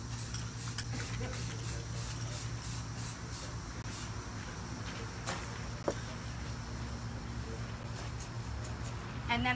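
Steady aerosol-like spray hiss during a mirror-effect finish applied over General Finishes gel stain on furniture, continuous and fairly close, with a low hum underneath and a faint click near the end.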